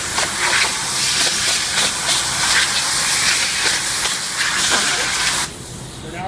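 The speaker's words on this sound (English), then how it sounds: "A good idea is to blow off all of the parts before you put the clear coat on" Steady broadband hiss of compressed air blowing dust off parts before the clear coat goes on, loud and continuous with brief pulses, dropping lower near the end.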